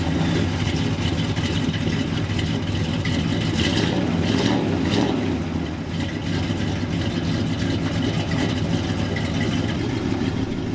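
A 1969 GMC truck engine idles steadily with a deep, even rumble, loud and close, holding a constant pace throughout with a slight dip in the middle.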